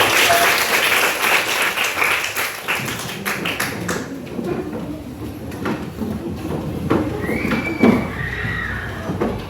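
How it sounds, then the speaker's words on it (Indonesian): A classroom of students applauds together, a dense burst of clapping that thins out into scattered claps and room noise over several seconds, with faint voices mixed in. "Tepuk tangan untuk semua."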